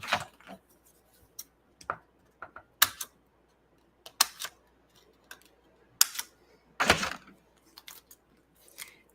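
Scissors snipping paper and twine while assembling a handmade stamped penguin greeting card, heard as scattered sharp, close clicks and short cuts at an irregular rhythm with quiet gaps between.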